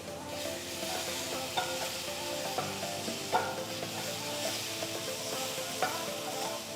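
Spices and ginger garlic paste sizzle in a pan with a steady frying hiss. A spoon stirs through it, scraping and clinking at intervals, and no one speaks.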